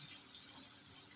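Tap water runs steadily over squash as it is rinsed for a pakbet-style squash soup, giving a soft, continuous hiss and splash that stays faint and even throughout, with no voices.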